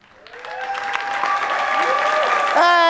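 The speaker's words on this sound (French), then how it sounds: "Un tonnerre d'applaudissements pour le dernier numéro de la soirée," Applause swells up at a campus college show as the final act, a magician, is introduced, with a crowd clapping steadily and a brief tonal musical sting near the end.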